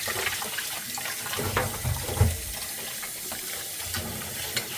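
Tap water runs steadily into a sink while a sticker is scrubbed off a bottle, a continuous splashing hiss with a few heavier low splashes and faint rubbing knocks.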